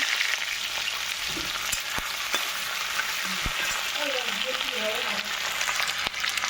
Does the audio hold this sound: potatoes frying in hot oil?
yes